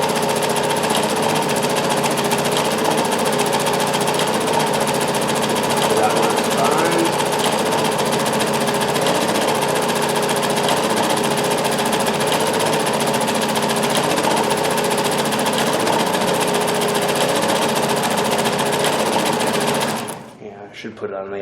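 A Dressmaker 2402 sewing machine runs steadily while stitching a cam pattern, producing a loud, continuous whirring drone for about twenty seconds before stopping abruptly near the end.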